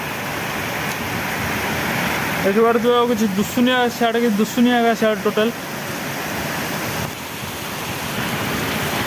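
Steady heavy rain with wind in a village, a broad continuous hiss running through the whole stretch, with a person talking briefly over it in the middle.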